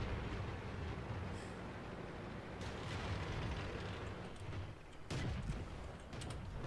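Tank cannon fire and explosions in a World of Tanks battle, with dense, rumbling blasts and crackling impacts over a loud, steady din, plus a sharp burst near the five-second mark.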